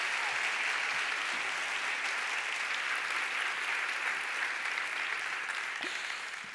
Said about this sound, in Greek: θέλω ένα δυνατό χειροκρότημα και για τη Σοφία